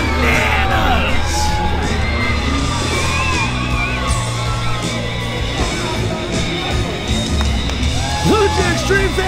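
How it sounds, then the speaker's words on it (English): Professional wrestling crowd in Fresno roaring loudly throughout, with shouts, whoops and yells layered over a constant din and occasional bangs from the ring. "This crowd in Fresno is going bananas!"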